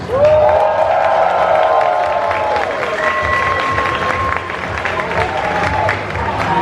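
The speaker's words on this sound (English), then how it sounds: "Can you please cheer for all the cosplayers?" A large convention crowd cheers and claps for the cosplayers, loud sustained whoops, shrieks and applause swelling at the start and holding steady throughout.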